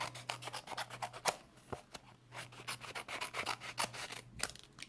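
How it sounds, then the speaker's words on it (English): Scissors trim around a paper die cut for a handmade birthday card, giving a quick run of crisp, close snips and rubbing scrapes in an irregular rhythm, with no voices. "Just going to trim around it."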